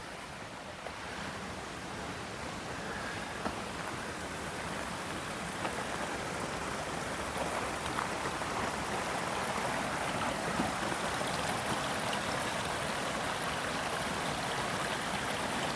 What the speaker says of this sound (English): Just sit there and listen to the creek.